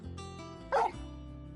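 A dog gives a single short bark amid soft whimpering, close and fairly quiet.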